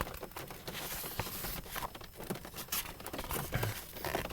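A book is shuffled back and forth by someone seated behind a car's steering wheel, producing a steady, faint papery rustling and crinkling.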